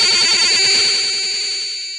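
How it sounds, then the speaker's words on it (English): Commodore 64 cassette tape data plays back as a dense, shrill screech of high-speed tones with a rapid stuttering pattern underneath, loud and continuous, fading slightly toward the end. "If you listen to a computer tape, you'll hear something like this."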